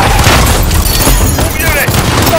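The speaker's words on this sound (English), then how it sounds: "They're firing on civilians!" Gunfire aimed at civilians in Call of Duty: Modern Warfare, loud and dense booming shots packed into a short burst amid heavy battle noise, with voices shouting over it.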